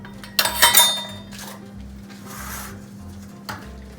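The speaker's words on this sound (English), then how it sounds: "So we'll sift the flour in 2 times minimum." Wheat flour sifted for a mango cake, with a burst of metallic clinking and scraping from a sieve or bowl early on, then softer shaking and rubbing, and a brief clink near the end.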